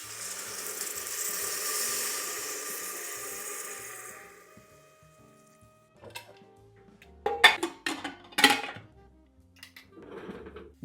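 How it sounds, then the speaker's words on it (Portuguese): Chicken fries in a pan with a soft hiss and sizzle for about four seconds, then it fades. Sharp metallic clinks and clatters of a pan and utensils follow. "tá escutando o barulhinho dele de fritura já?"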